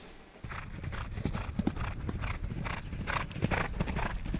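A racehorse's hooves clip-clop on hard ground at a Cheltenham stable yard, a steady close rhythm of distinct strikes under faint background ambience.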